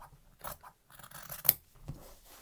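Scissors cut fabric around a face mask pattern with a handful of quiet, close snips and soft rasping slides. The blade strokes come at an uneven pace, with short pauses between them.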